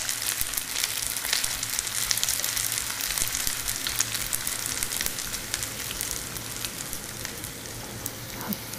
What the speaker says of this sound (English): I'm just gonna let these sear for about 1 or 2 minutes